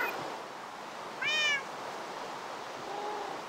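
A tiny baby kitten gives a single short, high mewing cry near the middle, clear over a quiet indoor background with no talking.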